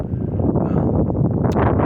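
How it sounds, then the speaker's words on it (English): Heavy wind buffets the microphone in a continuous low roar, loud and rumbling throughout with no voices. "I do apologize for the wind being so bad."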